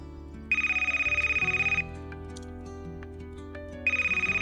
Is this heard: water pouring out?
no